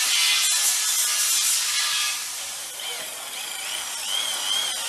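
A power drill whines in a bus manufacturing factory during frame and grille work. The loud hissing whir eases, then rises again with shifting pitch, set against workshop background noise.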